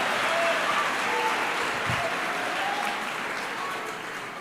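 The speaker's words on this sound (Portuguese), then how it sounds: "Quem pode aplaudir ao Espírito Santo aqui?" A church congregation applauds, a broad sustained roar of clapping filling the sanctuary, steady and loud before easing slightly near the end.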